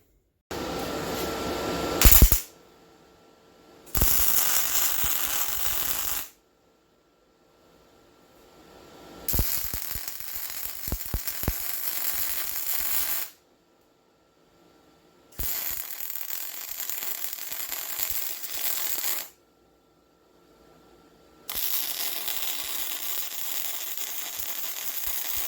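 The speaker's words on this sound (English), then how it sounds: "So let's weld this up, eh?" MIG welding on scrap steel for a garden seat, in several bursts of a few seconds each separated by short silences, close and fairly loud with a crackling hiss.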